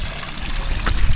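Cold mountain spring water runs into a pool at a campsite in Laguna, a steady close trickle and splash with a soft burst of louder water near the end.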